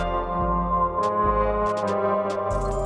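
A dark Analog Lab Both Worlds pad chopped by Gross Beat sits low in the mix, a sustained ambient chord pulsing beneath a beat with soft hi-hat-like ticks and a recurring low thump.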